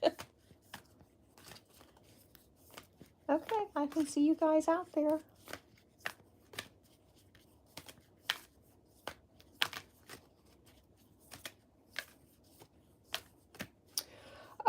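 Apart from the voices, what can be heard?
shuffling tarot cards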